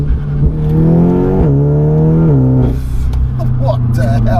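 A stripped-out 406 bhp Audi S3 saloon accelerating hard from inside the cabin, the engine note climbing steadily and dropping at each of two gear changes, loud and close.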